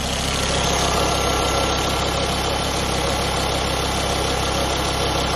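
A warmed-up car engine idles in a steady, loud, even drone with no pauses and no voices.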